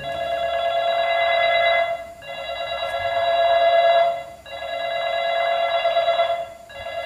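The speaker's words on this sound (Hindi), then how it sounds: "तो एक रिंगटोन को प्ले कर लेते हैं" A telephone-style ringtone on a Micromax X809 phone rings in three long bursts with short gaps between them, steady and fairly loud, with no talking.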